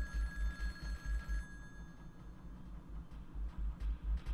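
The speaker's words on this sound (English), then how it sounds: "There's a phone for you." A telephone in the video game Jazzpunk rings with a rapid trilling bell in repeated bursts, moderately loud against a low background hum, with no talk.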